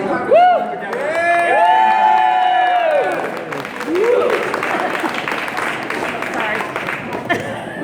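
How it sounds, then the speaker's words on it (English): At a 1969 class 50th reunion, a crowd claps and cheers while amplified singing or a voice carries over the top, the applause swelling loud and then settling into steady clapping. "Let's give them a big round of applause."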